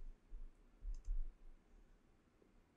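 A single quick double click of a computer mouse while working in a Metamask crypto wallet, soft and close against low background hum with no voices.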